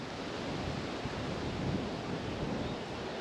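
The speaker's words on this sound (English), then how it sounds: "It's windy" Wind gusts across Pony Creek Lake around a kayak, a constant broadband roar buffeting the microphone with soft lapping water underneath.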